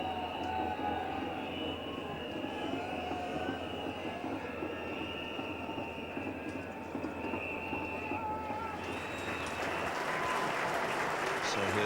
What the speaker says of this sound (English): the Yorkshire crowd giving him an excellent hand